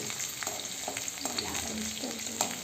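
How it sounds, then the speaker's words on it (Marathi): Cumin and garlic frying in hot oil in a pan, a steady close sizzle broken by scraping strokes of a spoon as the pan is stirred. "आता याच्यानंतर लसूण सोडा त्याला हलवून घेऊ"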